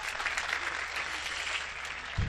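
Audience applause at a Hindi comedy poetry recital, a steady wash of clapping from a crowd that holds evenly throughout, with a brief low thump near the end.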